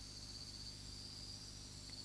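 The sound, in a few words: night insects and singing cicadas in a tropical rainforest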